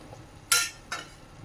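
Fried coconut, cashews and raisins are stirred into chira (flattened rice) halwa in a pan, giving two short scraping strokes close by with a quiet kitchen background between them.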